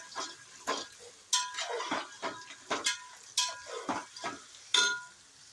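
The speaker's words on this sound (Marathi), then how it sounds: "हे आता खरपूस असं तळून घ्यायचं आहे" Dal frying crisp in oil with green chillies for chiramurya chiwada, heard as a soft crackle under repeated sharp scrapes and clinks of a spoon against the pan, coming in an irregular rhythm of about a dozen strokes.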